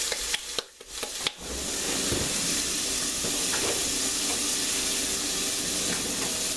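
Vegetables frying in about two tablespoons of olive oil in a pan for shrimp étouffée, a steady close sizzle and hiss that settles in after a few brief knocks at the start.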